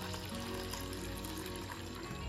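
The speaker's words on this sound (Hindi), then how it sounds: "उसमें डाल देंगे हम थोड़ा सा पानी ताकि अच्छी तरह ये भीग जाए" A little water is poured over flattened rice (poha) to soak it, giving a soft, steady trickle that stays faint and even for a couple of seconds.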